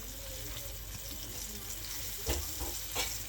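Fish coated in batter dropped into hot oil, giving a steady close sizzle and crackle throughout, with a couple of louder bursts of bubbling near the end.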